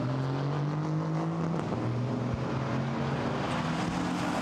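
A Mercedes GT4 race car runs at Monza on a treacherous track in a 2019 GT4 European Series race, its engine a steady sustained drone with tones that shift slightly, heard amid broad track noise.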